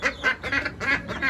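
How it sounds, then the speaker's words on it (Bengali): Ducks on a small home farm quack in quick repeated bursts, about five nasal calls in a row, close and fairly loud with no talk. "এই অল্প কিছু হাঁস মুরগি নিয়ে এখানে করেছে সে"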